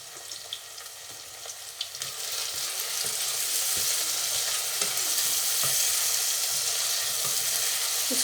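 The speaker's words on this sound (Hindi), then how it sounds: "मैंने यहाँ थोड़ा सा प्यूरी डाला, अब इसको भूनेंगे।" Tomatoes, salt and a little tomato puree fry in a pan for a cucumber sabzi, giving a steady, moderately quiet sizzle with faint stirring clicks and no talking.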